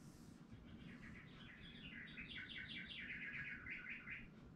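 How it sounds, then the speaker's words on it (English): A bird clock sounds its hourly chime as recorded birdsong, a quick run of bright, repeated chirps and tweets that plays softly over a quiet room hum. "There's my bird clock going off."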